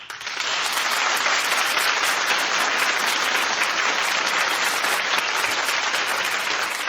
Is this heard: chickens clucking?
no